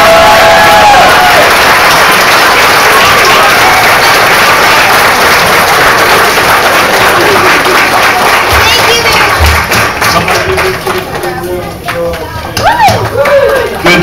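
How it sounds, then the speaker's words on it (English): Applause and cheering from a church audience after a children's Christmas play, loud sustained clapping from a crowd that carries on and thins toward the end, with voices mixed in. "Somebody give the kids a big round of applause."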